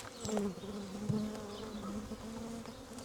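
Honey bees buzz on hive frames during a spring hive inspection, a close, steady drone with individual bees' wingbeats rising and falling in pitch as they fly near, with no talking.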